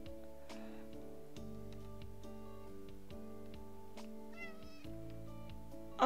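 In the video game Animal Shelter Simulator 2, a cat gives a few short meows over looping background music and soft game ticks.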